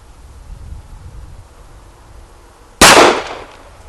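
A single sharp, loud gunshot from a Sig Sauer P938 pistol cracks near the end after quiet ambient noise, followed by a short decaying echo.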